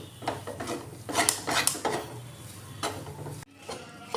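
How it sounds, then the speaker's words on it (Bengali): Spoon scraping and stirring dal puri filling with kasuri methi in a pan, a steady close scraping and rubbing with several stronger strokes, no talking. "আমি এটা নেড়ে নেড়ে ঝুরঝুরে মতো করে নিয়েছি।"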